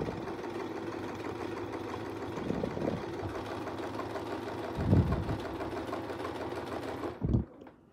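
Sewing machine stitching a quilt guided by Westalee Curly Q rulers, a continuous rapid mechanical whir with a few low thumps from the fabric shifting, stopping abruptly near the end.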